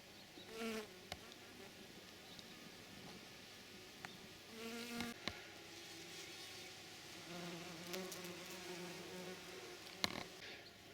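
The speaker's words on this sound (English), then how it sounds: "That's a honeybee." A honeybee buzzes around flowers in a summer garden, a faint intermittent hum that rises and fades as it moves closer and farther away over quiet outdoor background.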